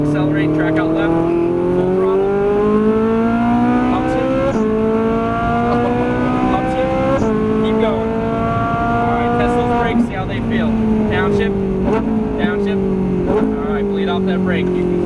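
A Ferrari 458 Italia accelerates hard on a track, its engine climbing through repeated rising pitch sweeps with gear changes between them, loud and close, while someone talks over it.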